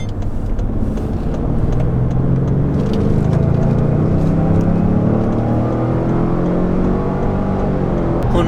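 A 2021 Lincoln Navigator SUV pulls onto a highway under acceleration, a loud steady engine drone whose tone climbs gradually through the gears, mixed with road and wind rumble from inside the cabin.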